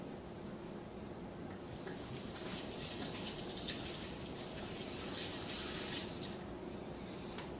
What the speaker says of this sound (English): we are going to add our first 2 liters of water